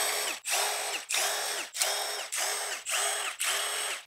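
A power tool spins out engine main cap bolts during a teardown of an SVT Lightning engine, giving seven loud whirring bursts in a steady rhythm with brief pauses between them, close up.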